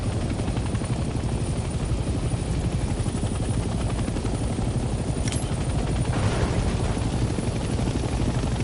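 A helicopter flies in the Hell Let Loose video game, its engine and rotor making a dense, steady, loud drone throughout, with a few faint sharp cracks near the end.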